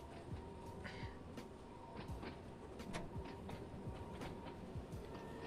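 Class 483 Island Line electric train running in Train Sim World 2, a steady rolling rumble with repeated wheel clicks and clanks over rail joints, continuous and fairly close throughout.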